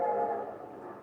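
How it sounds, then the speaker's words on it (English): An approaching train sounds a whistle, heard as a brief, steady horn-like tone with a rumbling undertone that fades slightly, with no voices over it. "The train was coming closer. I could hear its bell. Her cry, its whistle crying."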